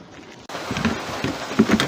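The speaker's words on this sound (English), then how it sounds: "It is absolutely lashing rain." Heavy rain lashes a metal shed in a steady dense patter that abruptly swells louder and keeps drumming close by with no voices.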